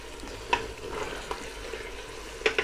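Pieces of namkeen gosht meat fry in plenty of oil while being stirred, a steady soft sizzle broken by a few sharp scrapes and clinks of the spoon against the pot.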